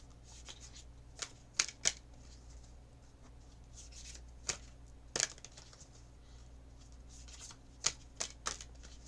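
Moonology oracle cards being shuffled during a tarot reading, heard as soft papery riffles and sharp flicking bursts in irregular clusters, quiet and close with no talking.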